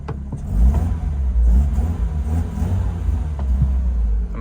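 A BMW drift car with a Pandem widebody kit runs poorly with its MAF sensor unplugged, its engine idling with a loud, steady, slightly uneven low rumble up close for several seconds.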